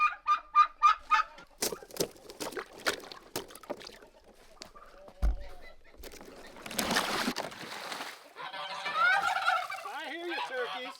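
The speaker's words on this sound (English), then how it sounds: "I hear you, turkeys. I hear you gobbling." Turkeys gobble in quick rippling bursts, then scattered clucks, a thud and mixed bird calls follow, some nearby and some farther off.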